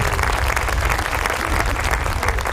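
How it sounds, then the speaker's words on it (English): Round of applause from a crowd at a 5th grade school celebration, dense and continuous clapping that stays loud and even throughout. "How about a round of applause for that?"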